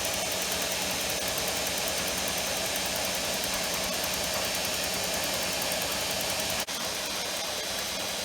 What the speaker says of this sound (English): Motor's still cranking.